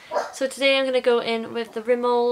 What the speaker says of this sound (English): Sorry about the dog, she's barking at the postman.